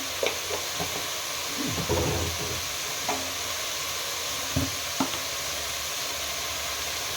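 Country chicken sambar masala frying in a pan, a steady close sizzle with a few scraping stirs and clinks of the spoon, no voices.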